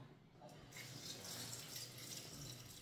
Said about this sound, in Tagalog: ang gagawin natin ay huhugasan natin ito